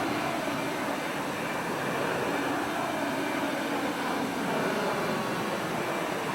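Aircraft engine drone from the X-Plane flight simulator, a steady, even, broadband roar with no distinct changes, moderately loud and continuous throughout.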